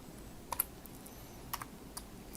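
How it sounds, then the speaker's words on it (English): A few sparse, faint computer keyboard key clicks while a value is typed in and enter is pressed, quiet and close with soft background hiss. "Type in 9'6", press enter."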